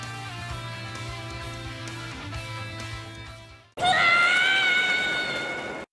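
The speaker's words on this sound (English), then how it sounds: "it's a pink small puffball screaming on the top of its lungs" Kirby, the small pink puffball from Smash 4, lets out a loud high-pitched scream during a Star KO, rising abruptly near the end after a stretch of game music and effects.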